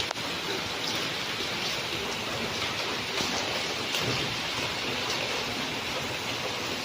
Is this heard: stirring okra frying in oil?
no